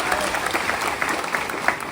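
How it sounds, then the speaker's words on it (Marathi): A crowd claps for Bhimrao at a village gathering, a short burst of steady, moderately loud applause with a few louder individual claps. "भीमरावांना टाळी वाजते म्हणजे तयारी चालू आहे"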